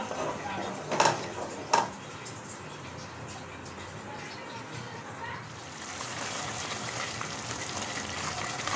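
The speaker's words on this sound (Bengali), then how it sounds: "এই অবস্থায় নেড়ে দিতে হবে একটু পরপর, পানিটা একদম টেনে আসবে।" A spoon stirs moringa leaf mash in a cooking pan over heat, with two sharp scrapes against the pan early on and a soft, continuous sizzle and bubbling as the water cooks off, while a voice speaks quietly.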